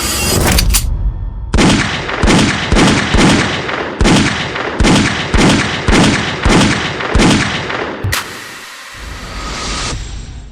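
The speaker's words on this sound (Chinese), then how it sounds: "这是手枪，可比他那弩箭厉害多了，不仅能5连发，甚至可以10连发" A pistol fires about ten sharp, loud shots in a rapid, even rhythm, followed by a brief lingering rumble and hiss.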